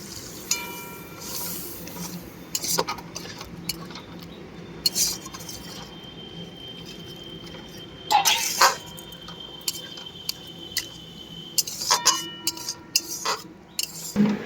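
Spice paste thinned with water is stirred in a pan while cooking pointed gourd, giving soft wet scraping broken by scattered sharp clinks of a utensil against the metal, quiet and intermittent.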